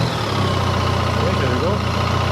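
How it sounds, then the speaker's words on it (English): A BMW R1300 GSA motorcycle engine idles steadily with a low, even rumble, with no clear start-up moment, close by and constant throughout. "Just start the engine."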